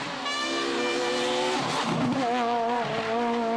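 A Renault Super 1600 rally car driven on tarmac, its engine screaming at high revs with shifting pitch and a brief dip around a gear change, loud and close throughout.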